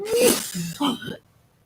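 A single loud, close sneeze with a sharp voiced burst, followed by a brief vocal sound, then quiet.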